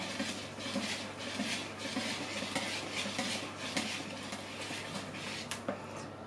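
A spoon gently stirs powdered milk and pudding powder into a homemade cheesecake batter in a bowl, a soft continuous scraping with faint clinks against the bowl, close and steady, no talking.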